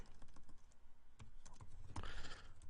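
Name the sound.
typing code on a computer keyboard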